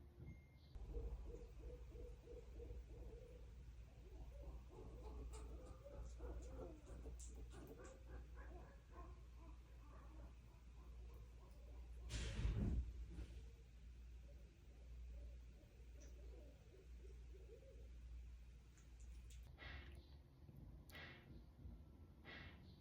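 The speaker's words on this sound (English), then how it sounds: "There's an owl." An owl hoots repeatedly at a steady rhythm in a quiet nighttime setting, faint and somewhat distant, with a dog's brief whimpering and barking in the background.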